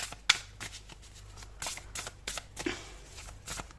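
A deck of tarot cards being shuffled close up, with a series of crisp riffling bursts and soft card slaps at an uneven rhythm. No speech.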